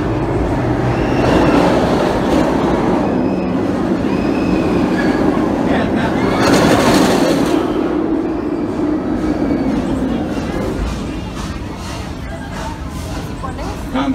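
Amusement park train ride at Busch Gardens Tampa rolls along with a steady rumble and wheel rattle, occasional squeals and clacks, while a voice narrates over it throughout.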